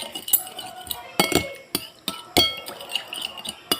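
Spoon clinking against a bowl while stirring a kinilaw mixture with chili, producing a series of sharp, irregular taps and scrapes close by.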